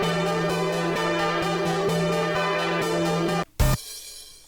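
A bright, buzzy saw synth loop made with the Nexus synth pulses in an even rhythm, then cuts off near the end with a short loud burst before fading out.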